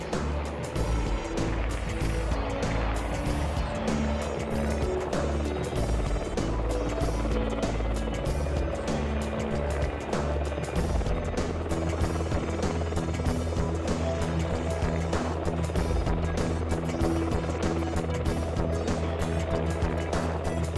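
A Merlin helicopter at a military air display, heard as a steady, loud rotor and engine drone with a thumping low rumble that runs unbroken throughout, without talk.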